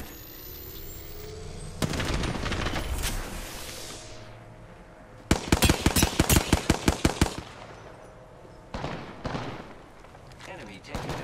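Apex Legends gunfire arrives in loud bursts: a rapid automatic volley of about a dozen sharp shots in the middle, flanked by a few earlier heavy blasts and a shorter later burst over faint background.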